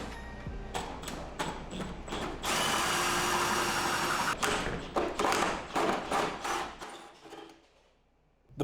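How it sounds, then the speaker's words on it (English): A Milwaukee power drill with a 4 1/4 inch hole saw whirs in repeated short bursts, then grinds steadily for a couple of seconds under load before more stop-start bursts, with thumps between. "The first step is to bring out the drill and the wrist breaker, a 4 1/4 inch hole saw."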